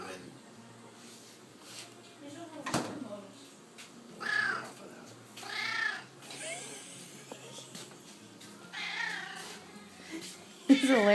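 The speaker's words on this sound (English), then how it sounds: "will you video him while he's meowing?" A cat waiting for tuna meows repeatedly in drawn-out calls at fairly close range, mixed with a person's talking and handling sounds, at a moderate to quiet level.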